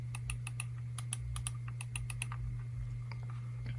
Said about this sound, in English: You have 2 buttons on the side. They make a pretty noticeable click.